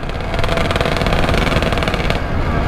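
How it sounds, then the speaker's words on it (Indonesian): Loud, steady roar of a Yamaha RX King two-stroke motorcycle exhaust while riding on a busy road, a continuous rasping engine drone with a slight dip in intensity near the end. "jalan rame begini knalpot gue terlalu bacot"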